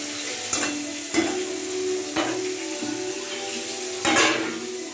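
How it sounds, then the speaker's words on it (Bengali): Onion and a little chili frying in oil in a pan, a steady sizzle broken by a few sharp clanks of a spatula against the metal, with no talk. "তো পেঁয়াজটা ভাজতে দিয়ে দিই। পেঁয়াজ দিলাম, একটু লঙ্কা দিলাম।"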